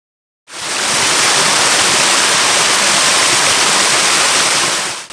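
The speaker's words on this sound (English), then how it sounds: "There are a number of small waterfalls hidden along this stretch" Small waterfall on the Dallington stream in an East Sussex forest, a loud, close, steady rushing roar of falling water that starts abruptly after a moment of silence and continues unbroken, with no voices.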